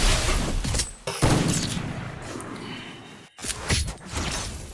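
Rapid bursts of gunfire from a shooting video game crack loudly and close, coming in dense volleys with short gaps and no talk over them.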